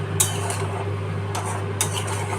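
Mutton being stirred in a cooking pot, with a few sharp clinks of a utensil against the metal spaced across the stretch over a steady low hum.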